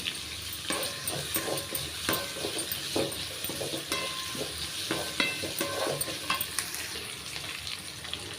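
Curry leaves sautéing in hot oil for a roasted-gram-flour kuzhambu, giving a steady close sizzle and frying crackle with light stirring scrapes and small clicks throughout, no talking.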